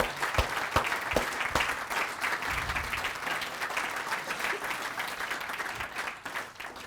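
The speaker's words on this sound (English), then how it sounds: "I'd like a round of applause for them" Audience at a UK National Parks conference Q and A session applauding the speakers, steady moderate clapping from a hall crowd lasting several seconds before tapering off.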